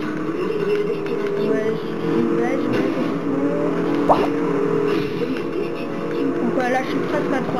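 Continuous high-speed car engine drone in Forza Horizon on Xbox 360, racing along a busy highway near 300–400 km/h, steady and loud throughout with a brief sharp knock midway.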